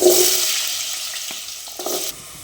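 Potatoes dropping into hot oil in a pan for mixed vegetables with paneer, with a loud wet hiss at the start that fades into steady frying sizzle, plus a few soft clinks and a brief flare of sizzle near the end.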